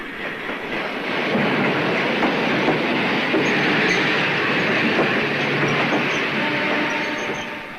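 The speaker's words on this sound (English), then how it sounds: "The regular express train takes 7 hours to go from Peking to Shanghai" An express train on the Peking to Shanghai railroad in 1967 China runs steadily throughout, a continuous loud rumble of wagons with faint wheel clatter and no voices.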